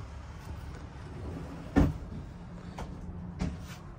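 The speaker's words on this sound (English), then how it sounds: "you have a pocket door." A pocket door slides along its track in the bathroom of a 2024 Bison Ranger 7308 living-quarters horse trailer, making a sharp bump followed by two softer knocks over a low steady room hum.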